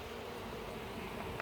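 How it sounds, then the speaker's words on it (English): Honey bees being dumped into a jar for a Varroa alcohol wash, a faint continuous buzzing hum with a brief soft knock near the end. "you dump the bees in"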